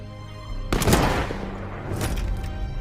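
A single loud, sharp rifle shot cracks out from a sniper in a World War II Soviet-versus-German sniper duel, followed by a long, rumbling, echoing tail that fades over a couple of seconds.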